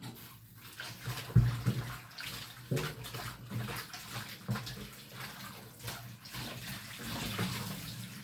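Tap water runs unevenly into a sink while tuna is rinsed by hand, splashing and gurgling at close range with irregular surges, no speech.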